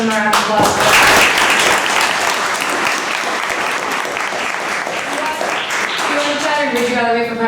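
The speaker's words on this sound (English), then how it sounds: "So I would have to give them a round of applause." Audience applause fills a school board of education meeting, sustained clapping from the room with a voice speaking over it at the start and end.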